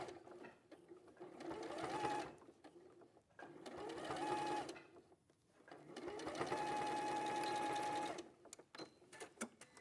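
A sewing machine stitches a Y seam on a Christmas quilt in three separate runs, each lasting one to two seconds, with quiet gaps between them where fabric is pivoted; the sound is close and fairly quiet.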